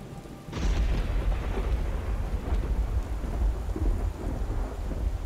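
Steady heavy rain in the video game Skyrim with a sharp thunderclap early on, followed by rolling, rumbling thunder beneath the constant downpour.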